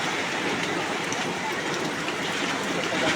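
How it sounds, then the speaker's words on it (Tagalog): Steady, dense hiss of heavy typhoon rain from Typhoon Kristine pouring without a break, loud and close, with a faint rumble underneath. "malakas na naman ang ulan"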